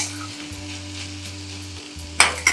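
Onion and tomato sautéing in a pan, a steady soft sizzle with a couple of sharp scraping stirs near the end.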